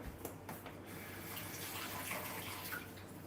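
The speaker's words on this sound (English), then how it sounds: "I'm just going to wash it one more time." Vegetables such as zucchini are washed under a running kitchen tap, giving a continuous, even rush of water with faint splashing. The sound is moderately quiet and heard alone.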